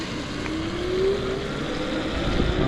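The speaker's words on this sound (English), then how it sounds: "Here's a car coming," A car approaches and passes along a road, a steady rising engine hum with a slight pitch sweep, moderately loud and alone, heard while riding an AKEZ electric fat-tire e-bike.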